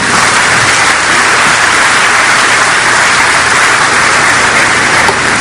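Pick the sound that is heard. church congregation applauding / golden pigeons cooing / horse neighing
church congregation applauding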